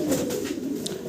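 Pigeons coo steadily at a farm, a low, close, continuous cooing with overlapping calls and no voices.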